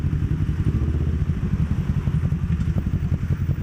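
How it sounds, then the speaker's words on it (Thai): Four-cylinder motorcycle engine running steadily on a road near a bridge, a continuous loud low rumble with rapid pulsing firing beats throughout, no voices. "เสียงสี่สูบอีกแล้ว"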